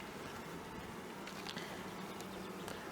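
Honeybees buzzing at a hive, still agitated after a new queen was just introduced; a steady, faint swarm hum without pause, no talking.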